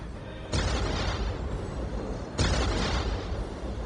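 Ork artillery fires in Warhammer 40K: Dawn of War: two heavy, rumbling blasts about two seconds apart, each a loud wide burst that rolls on into a continuous roar.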